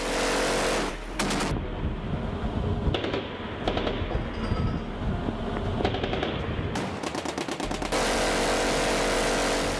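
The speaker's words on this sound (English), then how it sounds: "sailors listened to the rhythmic thump of naval guns" Bursts of rapid, heavy naval gunfire roll in and out over a constant roaring rumble, with dense rattling volleys at the start and end.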